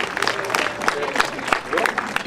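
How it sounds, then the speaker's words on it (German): A crowd at an anniversary celebration of the Ernstbrunn–Korneuburg local railway gives moderate, continuous clapping with scattered louder claps, while voices talk over it. "Zunächst einmal Applaus"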